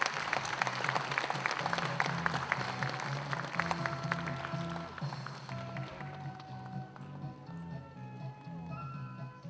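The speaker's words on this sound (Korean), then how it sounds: "다시 한번 큰 박수 부탁드리겠습니다." Audience applause at a 72nd-anniversary Korean War memorial ceremony in Cheonan: brisk, dense clapping from a crowd fills the first several seconds, then thins and fades into quieter room sound.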